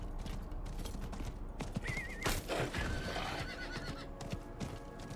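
A horse mount in the video game Diablo 4 lets out a clear whinny over steady clip-clopping hooves, with other game noise running underneath throughout.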